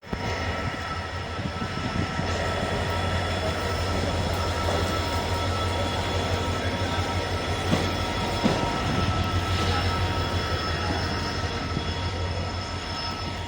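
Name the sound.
train passing at a railway station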